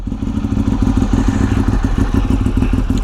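A Honda CB 750 café racer motorcycle running close by with a loud, steady rhythmic engine pulse and throttle being opened, continuous for several seconds without voices.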